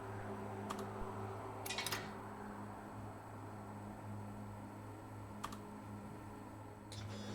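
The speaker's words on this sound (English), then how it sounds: "I like the keyboard noises." Computer keyboard typing, faint and close: a few scattered clusters of quick keystrokes separated by long quiet gaps over a low steady hum.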